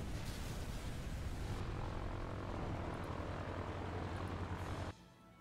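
A propeller warplane engine from World of Warplanes drones loudly and continuously, with biplanes such as the P-12, He 51 and Ar 65 in play. The roar holds steady, then drops off sharply near the end, and nobody speaks.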